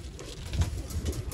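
Flying pigeons at a loft setup coo softly, a low murmur of rolling coos close by in a short stretch.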